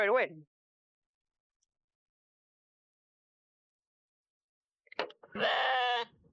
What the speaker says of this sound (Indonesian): Itu kambing kita, Dul.